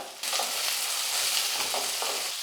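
Garlic, shallots and small dried red chillies fry in hot oil in a pan, a close, dense, steady sizzle with faint stirring touches, starting abruptly and holding even for a couple of seconds.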